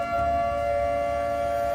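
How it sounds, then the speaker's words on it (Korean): A steady siren tone sounded through a school broadcast room holds at one pitch throughout, loud and unbroken, with no voices. "방송실을 이용해서 사이렌을 울립니다"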